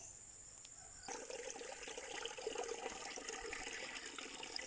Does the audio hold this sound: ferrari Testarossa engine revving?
no